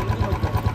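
A motorcycle engine runs at a steady idle, with a low, rhythmic pulsing throb that holds close and even through the short stretch, with no voices over it.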